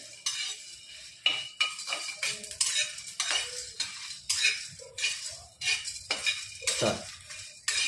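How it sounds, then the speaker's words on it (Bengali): A spatula scrapes and clinks steadily against a pan while chicken is lightly fried for chicken kanti, the stirring clatter repeating in quick uneven strokes with no talking. "এটা বেশি ভাজা যাবে না, হালকা করে আমি ভেজে নেব, ভেজে তুলে নেব।"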